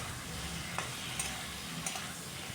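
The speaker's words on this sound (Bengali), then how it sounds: "লবণটা দিয়ে আরও কিছুক্ষণ আমি কষিয়ে নেব।" A vegetarian dish of vegetables and spices sautés in a pan with salt added, giving a soft steady sizzle with faint stirring clicks and scrapes, fairly quiet and with no talking.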